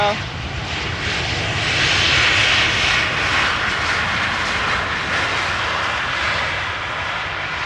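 An airliner on approach to Amsterdam Schiphol Airport roars overhead, a loud broad engine rumble and hiss that swells around the middle and holds steady as it passes close by.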